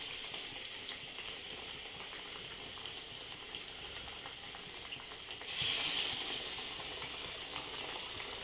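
Masala vada fries in hot oil with a steady, dense sizzle and bubbling that carries on throughout and grows briefly louder and brighter midway, with no talk over it.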